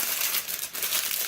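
Parchment paper for lining a sourdough baking tray is crumpled by hand, a loud, continuous close-up crinkling and crackling with a brief dip partway through.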